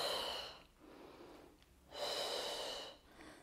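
Slow, deliberate breaths in and out during a pregnancy side-stretch exercise done without equipment: two long airy exhalations separated by a softer inhale, close and quiet with no talk.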